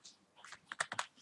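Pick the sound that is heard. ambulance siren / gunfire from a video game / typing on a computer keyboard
typing on a computer keyboard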